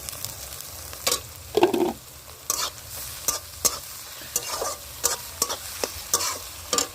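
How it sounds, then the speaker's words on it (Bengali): Chopped onions, garlic and ginger fry in hot oil for a chicken curry, the sizzle rising in bursts as a spatula repeatedly scrapes and stirs the pan, close and clear with no talk. "একটু নাড়াচাড়া করে পেঁয়াজগুলো ভেজে নিলাম।"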